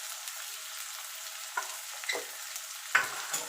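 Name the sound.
onions frying in a pan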